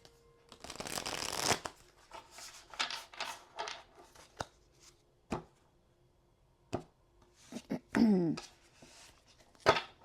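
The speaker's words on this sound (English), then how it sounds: "Let's shuffle it one more time and then cut it." Tarot cards are shuffled by hand in quiet, close bursts: a long riffling rush, then scattered sharp slaps and taps between short pauses, with more quick riffles toward the end.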